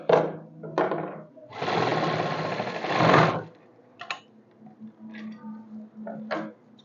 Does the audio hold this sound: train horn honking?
no